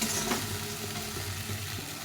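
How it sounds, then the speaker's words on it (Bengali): Spice paste with chilli powder frying and being stirred in a pan for a Bengali fish curry, a dense continuous sizzle with a faint scrape of the spatula near the start, close and steady, with no voices. "মশলাটা কিছু কষা হয়ে গেছে"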